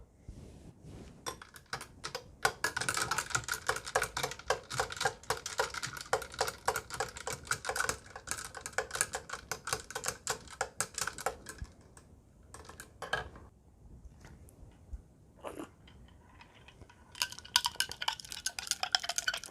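A spoon stirs homemade berry soda sweetened with stevia in a glass, giving rapid, steady clinking and scraping for most of the stretch, with a brief pause and then another burst of stirring near the end, close and fairly loud.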